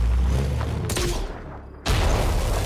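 Grenades explode during a game of Civilization VII: two loud, booming blasts, one shortly before the midpoint and another a second later. Each is followed by a rumbling tail, with no talking.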